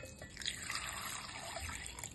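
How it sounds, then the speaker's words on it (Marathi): A glass of water poured into a mixer jar, giving a faint, continuous trickling splash that stays low and steady for the short span. "आता मी मिक्सरच्या जारमध्ये 1 ग्लास पाणी घालते"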